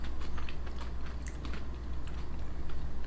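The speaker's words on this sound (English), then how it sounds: "Little crunchy bits of honeycomb in there." Someone chews a crunchy honeycomb chocolate bar up close, a run of irregular crisp crunches and bites lasting a few seconds without talk.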